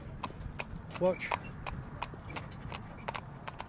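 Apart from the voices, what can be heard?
New Forest pony mare trotting, hoofbeats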